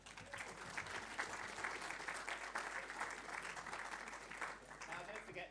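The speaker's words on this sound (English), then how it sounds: "Give them a round of applause." An audience at a digital advertising industry conference in Sydney applauds panelists, a crackling spread of many clapping hands at moderate volume, steady throughout with a faint hum underneath.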